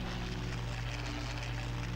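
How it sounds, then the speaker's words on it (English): WWII fighter plane engines drone in the video game Combat Wings: Battle of Britain, a low, steady propeller hum holding constant over the Dover coastline, fairly faint and alone. "Intercept enemy planes near the Dover coastline."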